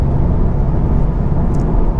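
A Mk8 VW GTI S cruises at speed on a fall road in Michigan, giving a steady, loud cabin drone of engine, tire and wind noise that holds evenly throughout, with no talking.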